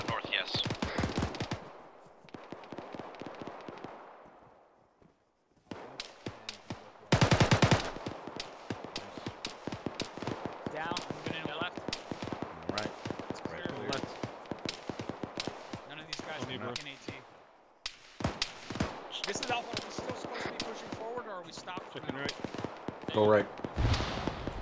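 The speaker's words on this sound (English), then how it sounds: "AK fire on the other side of the fence" Bursts of AK rifle fire crack from just beyond a fence or wall in an urban training exercise, sharp rapid reports in clusters, fairly close, with voices talking over and between the shots.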